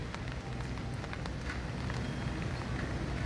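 Steady outdoor rain in the Philippine hills near the Luzon Datum, a dense continuous hiss of falling drops with a low rumble beneath, even and unbroken throughout with no talking.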